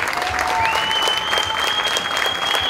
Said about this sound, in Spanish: Ernesto merece un gran aplauso de todos por lo que organizó.